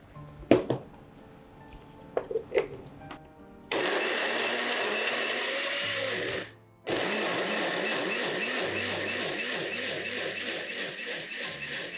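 A kitchen blender whirs loudly with water added while making rujak Aceh, starting after a few clattering knocks, cutting out briefly near the middle, then resuming a steady churning whine to the end.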